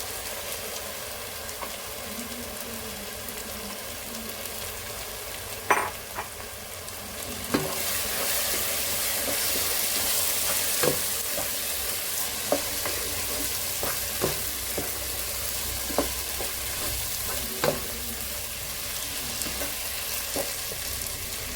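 Boiled, half-cooked chana dal frying in a pan for a soya chunk curry: a continuous sizzle that swells after the dal goes in, with repeated spoon clacks and scrapes against the pan, no talk.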